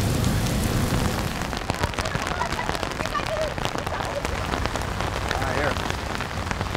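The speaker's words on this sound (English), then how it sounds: "Hiding out from the rain." Heavy rain pours down onto surfaces and umbrellas at an outdoor spot during a UFC event trip, a dense, steady hiss of drops with sharp close patters, and faint voices murmur beneath it.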